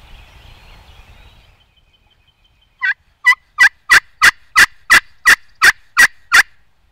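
A wild turkey gobbles repeatedly on Arkansas public land, a string of sharp rhythmic bursts following a quiet stretch of faint background noise.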